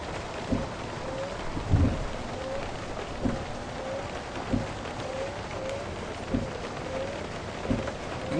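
Heavy rain pours steadily in the Vietnamese minibus driving game Minibus Simulator Vietnam, a dense unbroken hiss with periodic low thumps and rumbles, like distant thunder or wipers, recurring every second or so through the downpour.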